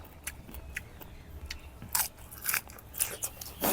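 Crispy pork rinds bitten and crunched up close, a series of sharp crackling bites spaced through the clip with chewing between them, no talk.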